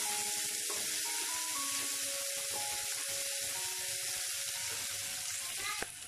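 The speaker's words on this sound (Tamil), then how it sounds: "இப்போ இந்த வெங்காயம் ரொம்ப வதங்கணும்னு அவசியம் இல்லை கொஞ்சம் லைட்டாக வதங்கினாலே போதும்" Sliced onions sauté for a roadside-style vegetable salna, giving a steady hot sizzle in the pan with occasional stirring scrapes, close and continuous throughout with no talking.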